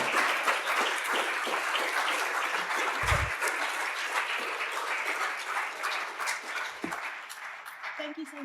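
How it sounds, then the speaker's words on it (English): An audience applauds after a talk on police culture, with a broad, steady burst of clapping that carries on for several seconds and thins near the end, with a few thuds and some voices mixed in. "but you can applaud me if you wish."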